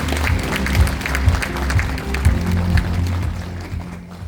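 An audience at a book launch event in a university hall claps to welcome a lawmaker to the stage, with steady clapping under music with a thumping beat.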